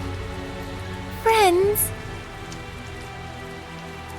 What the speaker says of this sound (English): Tell us the details after we find shelter from the rain, if you please.